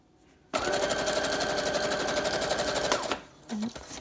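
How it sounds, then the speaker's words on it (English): A sewing machine stitches straight down through a wrap-around bohemian journal, running as a loud, steady mechanical hum for about two and a half seconds, then stopping, followed by a short squeak. "And I'm just going to sew straight down."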